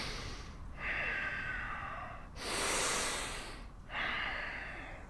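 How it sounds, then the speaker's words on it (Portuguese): Slow, deep yoga breaths, long airy inhales and exhales in an alternating rhythm, close and clear, with short pauses between, no talking. "inspirando, expirando"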